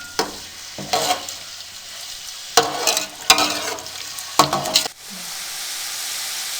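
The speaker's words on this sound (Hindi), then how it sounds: "अब इसमें हम बारीक कटे हुए प्याज डाल देंगे।" Finely chopped onions fry over a medium flame for pulao, several bursts of loud stirring and scraping over a low sizzle, then a quieter steady hiss at the end.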